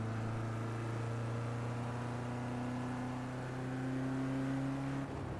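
A car engine at a steady pull as it shifts into fifth gear and runs downhill, a continuous droning tone with a slowly rising pitch and a brief dip near the end, faint and with no talking.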